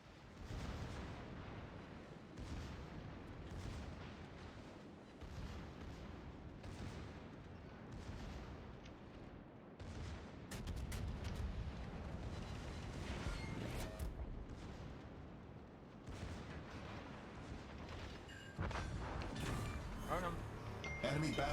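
A battleship is destroyed in the World of Warships naval game: heavy booms and rumbling blasts roll over one another amid layered gunfire, loud and dense throughout, with a voice speaking at times.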